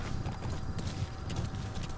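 Horse hooves clip-clop in the video game Metal Gear Solid V, a quick, steady run of close, even hoofbeats over a low rumble, with no talking.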